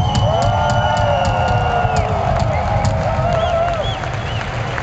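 Crowd at a gothic music festival concert cheering and applauding for a band: loud, continuous roar with clapping, whoops and high shouts layered over a dense wash of noise.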